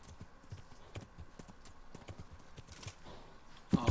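Clip-clop of horse hooves from riding in the video game Kingdom Come: Deliverance, a quick uneven rhythm of soft thuds at moderate volume with a louder burst at the end.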